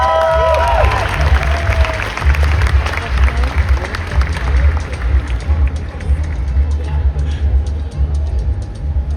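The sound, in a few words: concert crowd cheering and applauding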